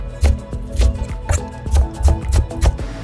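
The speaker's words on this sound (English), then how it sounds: "one large leek, chop that up nice and fine" A knife finely chopping a large leek and a white onion on a board, rapid close thuds in an uneven steady rhythm, loud and alone.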